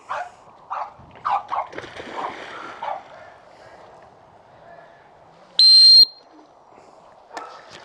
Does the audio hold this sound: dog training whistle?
yes